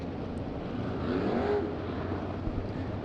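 The number 14 race car's engine rumbles at a distance after a hard start, briefly revs up, then settles into a steady, muffled drone.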